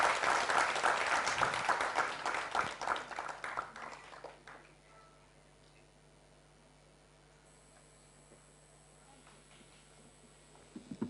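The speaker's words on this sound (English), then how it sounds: "So a round of applause." Audience applause at a Mumbai book launch for the novel Shunya, a burst of many hands clapping that fades out after about four seconds, leaving a quiet room with faint background noise.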